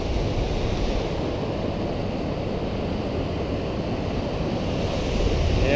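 Pacific Ocean surf along the Washington coast, a steady continuous wash of breaking waves with some wind rumble on the microphone, loud and unbroken throughout with no voices.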